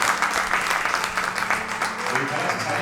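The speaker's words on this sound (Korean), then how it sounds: "네, 박수 드리겠습니다" A church conference audience claps for the panel, a dense, steady round of applause throughout with a faint tonal hum underneath.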